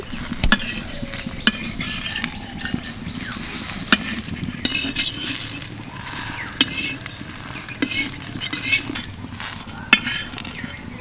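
A patisapta pitha with rolled coconut filling is turned and lifted off a hot tawa, giving light metal-on-griddle taps and scrapes with a soft sizzle underneath, steady and close.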